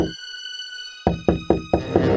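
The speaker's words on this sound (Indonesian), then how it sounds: "Serigala mengetuk pintu." Five firm knocks strike a wooden door in quick succession after a short silence, close and loud, as a wolf knocks on the door of a little pig's straw house in a children's story, with a sustained tonal ring behind them.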